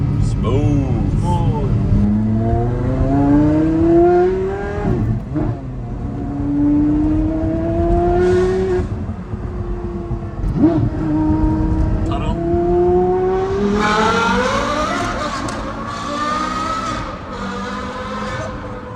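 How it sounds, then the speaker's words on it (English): A Porsche Carrera GT's V10 engine revs and accelerates through several gears, its pitch climbing and dropping with each shift, a thunderous close-up roar. "That V10 is so loud."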